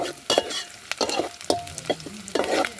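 Curry leaves fry in hot tempering oil for a tuber curry, crackling and spitting in close, loud bursts while being stirred in the pan.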